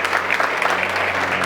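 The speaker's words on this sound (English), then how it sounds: "can I get a round of applause for the whole team behind this project, this event, for making this a success?" Sustained audience applause at a LegalTech startups competition on a corner stage, dense steady clapping from a crowd filling the whole stretch without letup.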